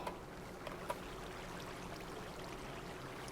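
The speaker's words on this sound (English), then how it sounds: "You can hear the water." Steady flowing water ambience from a Minecraft world, a soft continuous trickling wash with a couple of faint clicks near the start and no talking.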